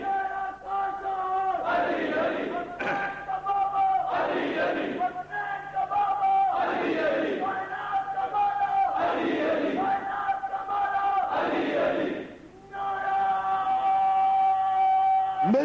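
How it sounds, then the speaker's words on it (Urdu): A large crowd at a Shia majlis loudly chants a religious slogan together, in repeated rhythmic bursts of massed voices with short gaps between each call. "کیا خوبصورت نعرہ ہے۔"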